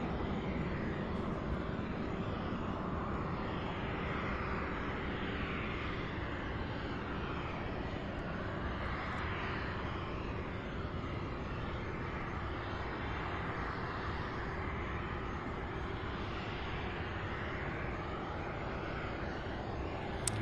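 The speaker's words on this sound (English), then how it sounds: "Beautiful takeoff." An airplane takes off at Louisville's SDF airport, a steady, distant engine roar holding at an even level throughout.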